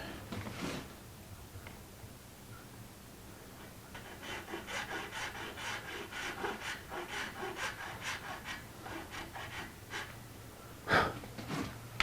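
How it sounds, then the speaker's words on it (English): A hand file rasps in a series of rhythmic strokes on a part for a 1964 Gibson ES-335-style guitar in a workshop, quiet and close, with a brief louder knock near the end. "Do some more filing."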